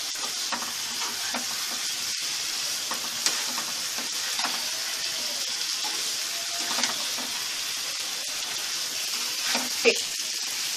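Potatoes fry in a pan for a Bengali tengra fish curry with tomato, giving a steady close sizzle with repeated soft scrapes and clinks of stirring throughout.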